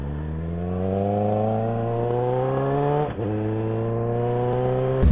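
A motorcycle with its exhaust muffler removed revs loudly and steadily, a harsh, unmuffled engine note held close by for several seconds, dipping briefly near the end before climbing again.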